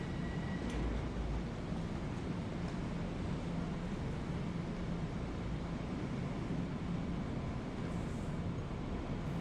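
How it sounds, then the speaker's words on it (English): A very long commuter train rolls along a station platform, its steady low rumble and rail noise continuous and fairly close, with no talk over it. "this is just getting to the end of the train now. So as you can see, it's a very large train."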